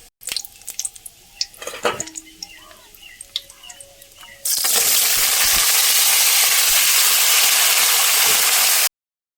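Potatoes dropped into hot oil in a pan already holding nigella seeds and dried chillies: a few clinks and drips, then a loud, steady hiss of frying that fills the rest of the moment before cutting off.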